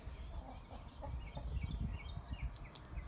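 Hens and young chicks cluck and peep around a farm coop, with soft overlapping clucks and high chirps at a moderate distance against a low background rumble.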